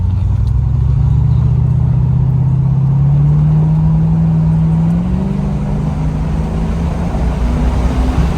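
A 1984 Chevrolet Corvette Z51 with low original mileage cruises down the road, its V8 engine droning loud and close, the pitch rising steadily as it accelerates, then easing off and settling into a lower hum.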